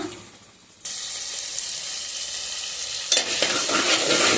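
Onion pieces drop into hot oil with turmeric and salt for an aloo tomato curry. The sizzle bursts in suddenly and stays loud and steady, then flares brighter near the end with stirring.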